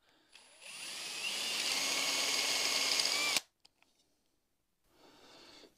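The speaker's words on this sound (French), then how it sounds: "Donc là je perce les trous du haut en 6." A power drill boring a 6 mm hole into a ceiling, a single loud high whine lasting about three seconds that stops abruptly, followed by a few small clicks and a fainter hum near the end.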